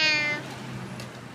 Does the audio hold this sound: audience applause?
no